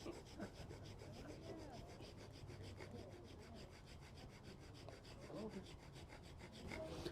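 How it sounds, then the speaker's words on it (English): Rhythmic back-and-forth rubbing of a bow drill spinning against wood, a scratchy grinding friction repeated steadily and fairly faint throughout. "So that's how you do a bow and drill, and you see it smoking on its own."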